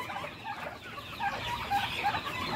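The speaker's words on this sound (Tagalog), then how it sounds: "andito tayo ngayon sa ating munting manukan" Native chickens cluck softly in a small backyard coop at feeding time, several birds murmuring at a moderate distance over a faint ambient hiss.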